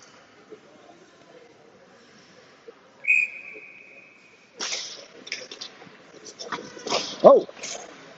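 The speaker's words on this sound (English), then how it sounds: "And a whistle." A referee's whistle at a junior ice hockey game sounds one sharp sustained blast, followed by rink noise with a commentator talking over it.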